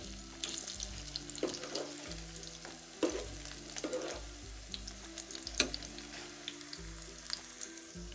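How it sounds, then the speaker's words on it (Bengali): Vegetable pakoras fry steadily in hot oil, a continuous crackling sizzle with occasional sharper pops and scraping clinks as pieces are turned, no voices. "পকোড়ার একটা দিক ভাজা হয়ে গেছে, এটাকে আমি উল্টে দিচ্ছি"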